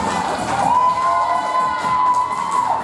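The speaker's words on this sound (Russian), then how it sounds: "Аплодисменты звучат еще громче." A crowd cheers and shouts loudly at a ballroom dance competition, a sustained roar of voices with whoops and one high tone running through it.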